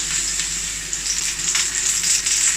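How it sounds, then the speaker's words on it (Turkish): Eggplant frying in a pan of oil, a steady close sizzle and crackle running throughout with no voices. "bunun bir patlıcan kızartması kadar yoğun yağda kızarmadığını göreceksiniz"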